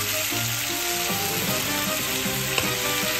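Frozen bottle gourd (upo) sautéing with shrimp in a pan, a loud continuous sizzle and crackle of frying with stirring knocks and a sharp clink near the end.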